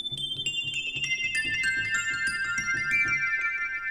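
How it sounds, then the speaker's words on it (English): A sampled metallophone played on an Akai MPC One, with bright ringing metallic notes moving in a melodic line over a soft, steady low pulsing accompaniment, at moderate level without speech. "And the metallophone sounds like this."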